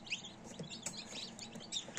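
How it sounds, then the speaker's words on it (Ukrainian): Soft, continuous high peeping from newly hatched downy purebred chicks, several overlapping tiny chirps in a quiet indoor space. "Тут у мене вилупилися чисто породні курчатка пухові."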